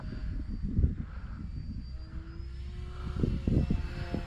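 An FMS Ranger 1220mm RC trainer plane flies at a distance, its steady electric motor drone holding throughout with a faint rising whine and a couple of louder swells as it passes nearer.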